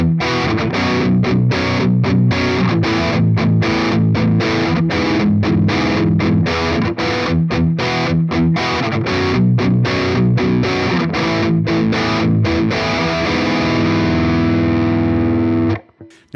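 Electric guitar played through Helix Native and Metallurgy Thrash amp simulations, heavily distorted with rapid palm-muted chugging riffs and stabbing chords, loud and continuous, ending on a sustained ringing chord that cuts off.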